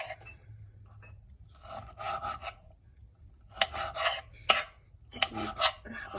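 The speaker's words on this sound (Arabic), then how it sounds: "انا بقطعهم مربعات صغيرة بهالحجم." A knife cuts chicken breast into small squares on a board, giving clusters of rasping, scraping strokes in short bursts separated by quiet pauses, close and fairly faint, with no talking.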